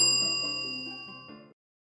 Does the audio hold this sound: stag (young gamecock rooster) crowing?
no